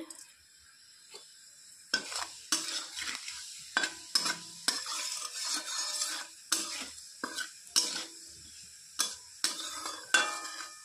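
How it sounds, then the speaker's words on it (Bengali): Bay leaf and whole cumin seeds sizzling in hot oil in a pan, with a steady frying hiss broken by repeated sharp spatters and the clink and scrape of a stirring utensil, close and alone. "তেলটা গরম হয়ে গেছে, এখানে দিয়ে দিচ্ছি একটা তেজপাতা, গোটা জিরে"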